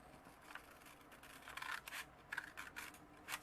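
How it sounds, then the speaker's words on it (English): Scissors snipping through folded paper, cutting from the fold toward the center: a faint run of short, crisp crunching snips in irregular bursts, close by with no talk. "we're going to cut from that folded edge right to the center."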